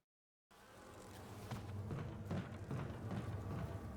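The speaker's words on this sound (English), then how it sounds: "The buzzing noise of these guys remind me very much of the buzzing noise of the bees in Bioshock." Insects drone in a continuous, low, close buzz in the Resident Evil remake, rising in level after a short silence at the start, with faint thuds underneath.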